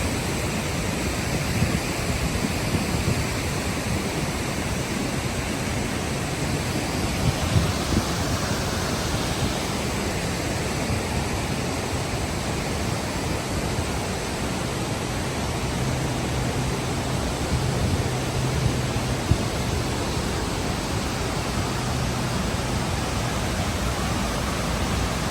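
Fukiware Falls roars as a steady, dense broadband rush of falling water, loud and continuous throughout with no break or voices.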